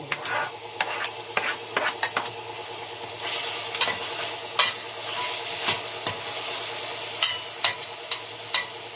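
Onion and garlic sauté in a pan for chicken tinola, a steady soft sizzle broken by repeated close clinks and scrapes of a utensil stirring against the pan, with no talking.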